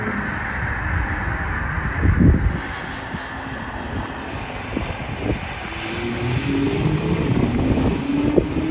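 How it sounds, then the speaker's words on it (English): Porsche cars run on the track at the Porsche Experience Center, a low engine rumble with several passing surges, partly masked by heavy wind noise on the microphone. "I'm going to let the engine sounds speak for themselves."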